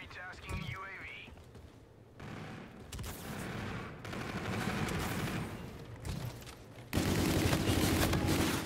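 Light machine gun fire in a multiplayer shooter video game, dense bursts of gunfire and explosions building to a loud sustained barrage near the end, with voices talking over the chaotic battle noise.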